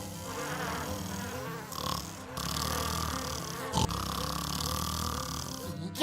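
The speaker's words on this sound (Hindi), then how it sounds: "क्या भूत खर्राटा लेता है?" Snoring in a Hindi cartoon comedy, a drawn-out, buzzing, rhythmic rasp with brief breaks, heard over background music and cartoon voices.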